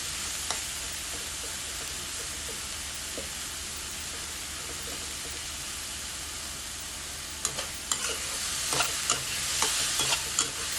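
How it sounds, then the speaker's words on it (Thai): Nam, Thai fermented pork, stir-frying in a pan for a basil stir-fry: a continuous soft sizzle, with a few scrapes and taps of the spatula that become busier and louder toward the end. No one speaks. "ผัดไปเรื่อยๆจนกว่าแหนมจะสุกดี"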